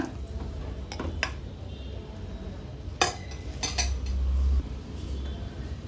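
Raw mango jelly candy mixture being stirred in a hot frying pan, with scattered utensil clinks and scrapes against the pan over a low steady background, close and fairly quiet.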